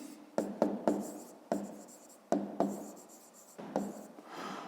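Pen writing by hand on paper while working a fifth-grade math exercise, close scratchy strokes in several short bursts separated by brief pauses, with no talking.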